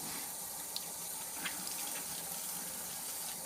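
Water sloshes and splashes inside a dishwasher part as it is filled and rocked back and forth, a steady running-water wash with a few small splashy accents, close and moderately quiet.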